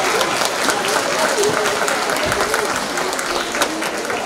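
Crowd at a school dance competition applauding to cheer on a dance team, steady mid-level clapping from many people with indistinct voices mixed in.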